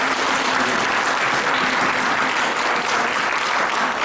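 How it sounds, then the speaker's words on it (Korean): Sustained applause from a church congregation during a thanksgiving service, dense steady clapping filling the room for several seconds without a break. "한번 감사의 영광의 박수를"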